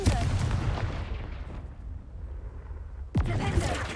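A Confringo fire spell explodes in the Hogwarts Legacy video game, a low rumbling blast that fades away before a second sharp burst, with no talk.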